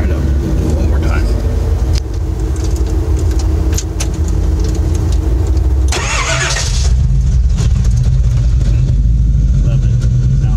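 Engine of a rat-rod dually truck cranking with a cheap mini high-torque starter while hot at 210 degrees, then firing and settling into a loud, steady idle with a brief burst of revving partway through.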